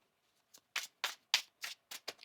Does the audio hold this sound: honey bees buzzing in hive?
no